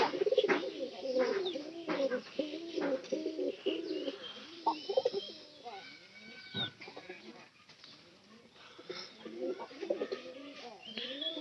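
Pet pigeons coo in repeated, throaty, rolling phrases close by, the calls overlapping and continuing steadily through the whole stretch, with faint background voices.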